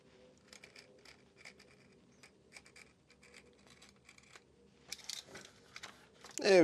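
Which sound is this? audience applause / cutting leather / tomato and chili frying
cutting leather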